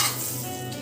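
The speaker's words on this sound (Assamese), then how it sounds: "এতিয়া আমি কণীটো ভাজি ল'ম" An egg fries in a hot pan with a steady, loud, close hiss and crackle, and no voices.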